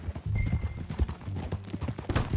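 Horse hooves clip-clopping in the Red Dead Redemption 2 video game, a steady stream of hoof beats close by, with a brief faint whinny-like tone and ambient game noise beneath.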